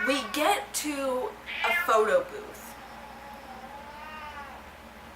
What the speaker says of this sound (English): Sorry, that's my cat.